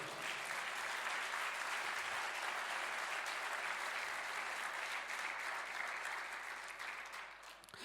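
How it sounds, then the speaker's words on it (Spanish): A church congregation applauds during a sermon on the empty tomb: a steady, dense wash of many hands clapping at close range, sustained for about eight seconds with no break before it thins slightly at the end. "Eso merece un aplauso."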